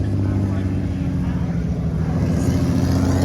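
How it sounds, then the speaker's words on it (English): A Ferrari race car from a North American racing team running at a classic car show, its engine note a steady loud drone with strong low harmonics throughout, blended with crowd talk nearby. "That Ferrari sounds phenomenal."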